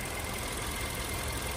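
A Kia Sportage engine idles steadily at close range, a smooth, even hum with no knocking, rattles or other stray noises, continuous and alone for the whole short stretch.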